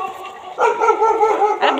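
Dogs bark and yip in short, close bursts over a steady background hum, with a pause before the louder barking begins.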